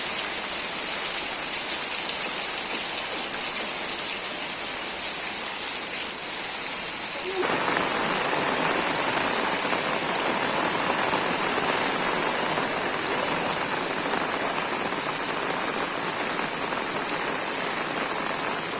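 Heavy rain pours down in a steady, dense hiss that carries on unbroken throughout.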